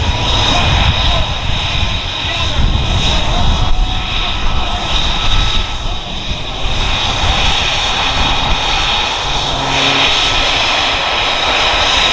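An unlimited aerobatic airplane's engine clawing skyward at an airshow, a loud, continuous drone and roar holding for the whole stretch with slight surges in strength.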